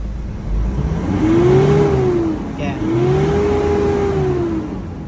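A Mitsubishi Triton/Pajero 4D56U engine with a stuck valve hums steadily at idle, its pitch rising and falling smoothly in two gentle swells, close by and loud.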